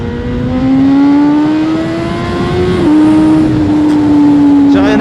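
A BMW S1000 RR motorcycle accelerating hard away from a roundabout, its engine note rising steadily through the gears with a brief dip at a shift, loud and close throughout.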